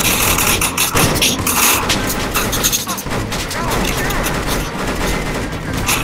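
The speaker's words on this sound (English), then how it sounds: "multiple are shooting me" Loud, continuous video-game gunfire with booming impacts and overlapping bursts throughout, mixed with shouting players talking over the shots.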